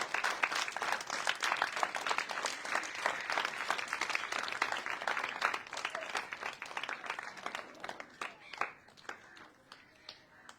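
Women and girls at a shelter home's Ramadan iftar gathering clap loudly together, a dense run of close hand claps that thins into scattered, fading claps toward the end.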